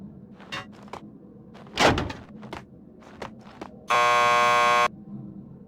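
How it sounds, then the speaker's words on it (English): A lockup door buzzer in Max Payne 2 sounds as one steady, harsh electronic buzz lasting about a second, loud and close, after a few scattered clunks and a heavier thud. "Just press the buzzer by the door."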